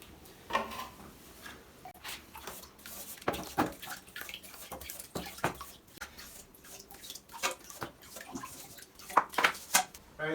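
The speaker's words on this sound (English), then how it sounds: "take this time now to clean your tools down in a bucket of water" Plastering tools being washed in a bucket of water make irregular splashes, sloshes and metallic clanks of trowels knocking together. The sounds come in short bursts and are close and moderately loud.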